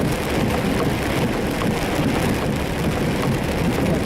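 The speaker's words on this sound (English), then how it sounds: "Had some really heavy rain through here" Heavy rain from a severe storm pours down steadily and loudly on a moving vehicle, a dense, unbroken hiss with no voices.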